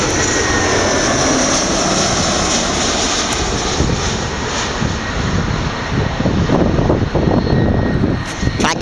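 Airliner engines roar steadily at Gatwick Airport on an evening, a loud continuous jet rumble that swells slightly toward the end as the aircraft draws nearer.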